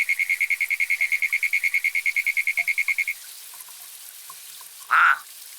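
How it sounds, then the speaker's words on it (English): A frog croaks in a fast, even run of about twenty-five pulses lasting three seconds, close and clear, followed by quiet and a single brief splashy burst near the end. "So frogs croak like that in order to communicate"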